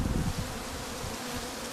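Buckfast honeybees buzzing around a small hive colony, a steady close hum of a few bees with no voices.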